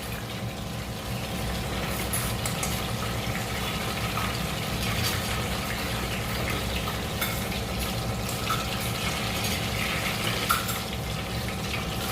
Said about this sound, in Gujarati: ડુંગળી હવે આપણી તળાઈ ગઈ છે